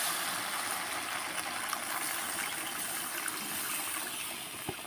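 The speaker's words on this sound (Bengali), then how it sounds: "পরিমাণ মতন জল দিয়ে দেব।" Water poured into a pan of masala-fried potatoes for a spicy bhola fish curry, a steady close hiss and rush of liquid with no pauses.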